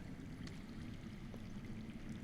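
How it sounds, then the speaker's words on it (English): Underground water flowing in a video game, a steady low rushing murmur that stays even and continuous throughout, fairly faint and heard alone without any talk. "I hear water. From underground."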